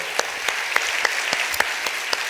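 A church congregation claps in thanks: a steady rhythmic beat of roughly three to four claps a second over a soft wash of scattered hand noise, moderately loud in a reverberant hall.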